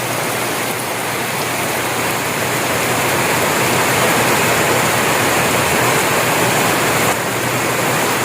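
Rain falls in a loud, unbroken rushing hiss, dense and close throughout, with no voices.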